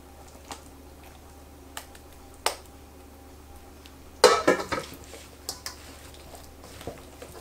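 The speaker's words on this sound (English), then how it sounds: "So we're going to stir it really well, but also gently because we don't want to break up the potatoes." A spoon stirs mayonnaise through cubed potatoes for potato salad, giving a few soft scrapes and a short burst of wet, squishy clatter in the middle, with quiet gaps between.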